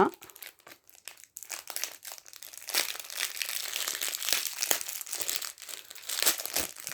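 Crinkling plastic packaging of a pompom kit being unwrapped close by, with bursts of crackling and rustling throughout and a person speaking in between.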